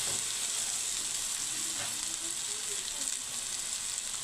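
Rice sizzles and fries steadily in a pan with tomato masala, salt and chili, a constant close crackle with faint stirring scrapes throughout.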